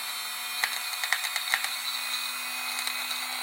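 A Dremel grinds a non-plastic extruder part for a Sovol SV06 3D printer. A steady high motor whine carries quick scratchy ticks as the bit bites, close and fairly quiet, over a few seconds.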